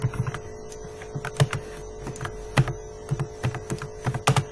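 C++ code is typed on a computer keyboard in short bursts of soft, close key clicks with brief pauses, over a constant low electrical hum.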